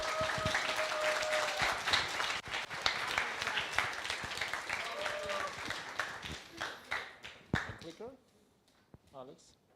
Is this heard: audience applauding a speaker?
yes